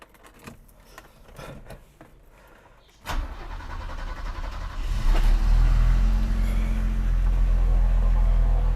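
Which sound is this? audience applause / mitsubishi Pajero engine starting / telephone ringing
mitsubishi Pajero engine starting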